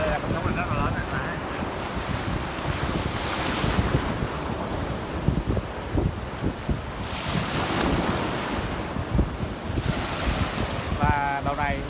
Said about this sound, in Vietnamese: Đây là con sóng mình rất là lớn này.